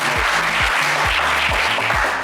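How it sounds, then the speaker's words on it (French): Applause from a TV game show studio audience, loud, dense clapping filling the whole moment without a break. "vous applaudir très fort"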